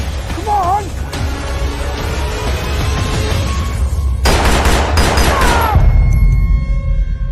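Close, loud gunfire during a military hostage-rescue training exercise: a rapid string of shots comes in bursts over a constant background rumble, with people shouting throughout.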